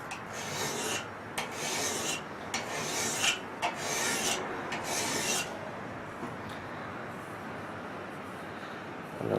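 A file rasps across a steel knife blank from a flint-and-steel knife kit in roughly eight steady, rhythmic strokes, close and scratchy, then the strokes fade into a softer, quieter rub.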